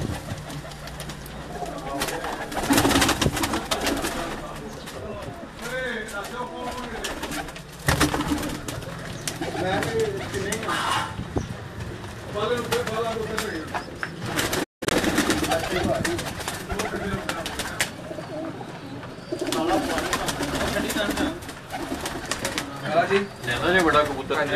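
Fancy pigeons coo in low, throaty, repeated calls over a busy background, with someone talking over them much of the time.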